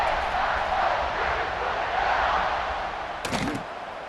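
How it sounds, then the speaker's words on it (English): A stadium crowd buzzes in a college football video game, a broad steady roar that eases slightly near the end, with a brief voice-like burst over it. "this crowd is buzzing after that last score"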